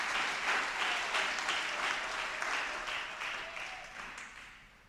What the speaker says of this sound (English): Let us clap to the God of the Founder Mother.